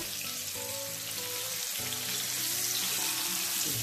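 Sardines fry in a pan and are turned one by one, a loud constant sizzle with a brief dip and scrape midway before the crackling swells again.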